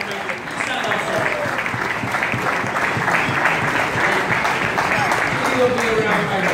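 A crowd claps loudly for Guyana's Bharrat Jagdeo in continuous, full applause, with voices mixed into the clapping throughout.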